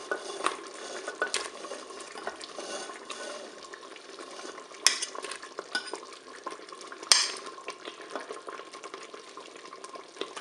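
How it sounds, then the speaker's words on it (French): Slices of pork roast fry in the pot of a Cookeo multicooker. A steady, moderate sizzle runs the whole way through, with occasional sharper clinks and scrapes of utensils against the pot. "je vais rajouter mes tranches de rôti"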